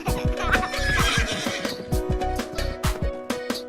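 A horse whinnies repeatedly over rhythmic clip-clop hoofbeats and bouncy music in a children's cartoon song, the neighs loud and up front.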